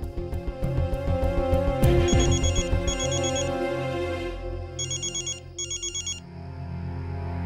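A phone ringtone plays loudly and close, an electronic melodic ring with repeated bursts of chiming tones that pause and resume, heard alone without talk.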